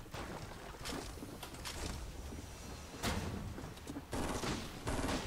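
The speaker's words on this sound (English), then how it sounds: "There is so much gunfire." Gunfire from many players in a Fortnite Battle Royale match crackles in repeated bursts and rattling volleys over a busy game background, moderately quiet and without any talk.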